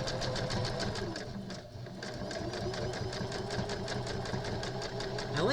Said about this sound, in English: Okay, now I'm going to sew this one.